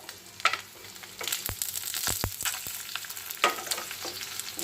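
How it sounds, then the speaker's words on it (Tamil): Urad dal, chana dal and dried red chilies fry in a little oil for tomato chutney, with a soft steady sizzle broken by sharp crackles and a few scraping stirs, close and without talk. "கொஞ்சமாக ஆயில் ஊற்றிக்கலாம் உளுத்தம்பருப்பு போட்டுடலாம் கடலைப்பருப்பு காஞ்ச மிளகா"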